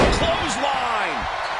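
A clothesline slam lands in the WWE 2K25 women's wrestling video game, a single thudding impact with swooping game effects, heard amid arena crowd noise.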